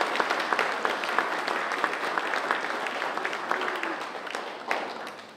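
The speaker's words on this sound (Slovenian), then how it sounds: "a ne da si zaslužijo še eno aplavz." Sustained audience applause for a women's folk singing group at a gathering of winegrowers' choirs, a dense steady wash of many hands clapping close by and filling the whole stretch before tapering at the end.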